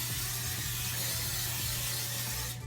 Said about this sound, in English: I have my pan here that I'm just gonna spray with some coconut oil